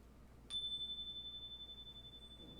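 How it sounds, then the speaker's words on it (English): A single clear chime is struck once and rings on as a pure sustained tone, slowly fading toward silence over a faint, quiet background. "we listen to that chime again and wait for the moment of silence thereafter"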